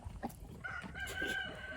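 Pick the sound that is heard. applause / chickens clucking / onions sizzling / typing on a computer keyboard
chickens clucking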